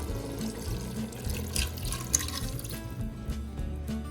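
Water poured into a pressure cooker while making an elk burger skillet meal, a short splashing, trickling pour heard close up with small drips.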